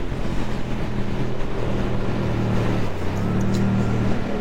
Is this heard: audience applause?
no